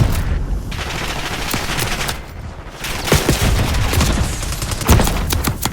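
Dense video-game gunfire crackles nonstop, with rapid automatic bursts and single shots layered into a loud, continuous battle fusillade.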